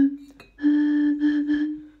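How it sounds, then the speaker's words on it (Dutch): Breathy hollow tone from blowing across the mouth of a beer bottle partly filled with water, a soft steady hoot held for over a second after a brief first attempt, fairly quiet and close. "En dan blaas je over je lip heen."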